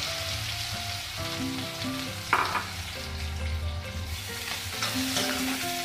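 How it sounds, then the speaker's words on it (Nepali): Onions fry in hot oil with cumin seeds for a tofu curry, giving a steady close sizzle with brief stirring scrapes and one sharp splashy burst midway, no voices. "जीराको दाना फुरिसकेपछि प्याज फुराउँछु।"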